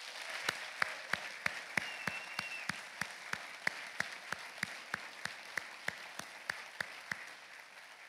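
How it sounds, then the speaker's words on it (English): Audience applause at the 2021 LSU Athletics Hall of Fame induction ceremony, a soft, distant bed of clapping with one sharp, evenly spaced clap repeating nearby about three times a second. "Let's give them one more round of applause."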